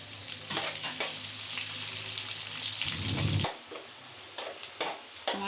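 Three green chillies hit sliced onions frying in oil for Bengali chicken kosa, a loud continuous sizzle with crackling and stirring scrapes, close up and without talk.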